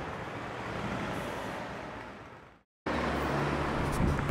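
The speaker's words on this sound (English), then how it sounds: "Bus driving off." A bus drives off in a Bilbao street, a broad engine rumble with road noise that fades away over two and a half seconds, then a short silence before steady traffic and low engine hum return.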